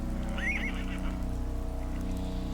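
A horse gives a single bright whinny early on, close and clear, over a steady low background hum in a dramatized scene.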